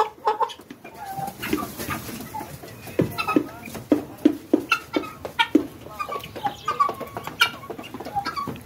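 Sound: chickens clucking

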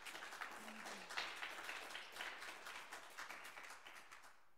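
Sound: audience applause for a performer

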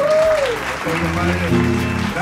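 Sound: audience applause for the band

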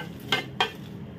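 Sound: Byadgi chillies frying and being stirred in a pan

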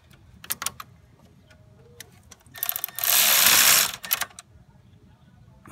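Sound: 13 mm ratchet tightening Jeep camshaft synchronizer bolt

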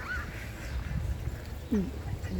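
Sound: ducks and drakes feeding at a tropical plantation on Maui

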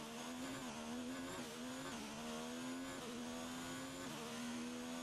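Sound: F1 race car engine in F1 2019 video game

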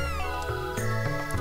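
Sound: cat meowing in the video game Chrono Trigger

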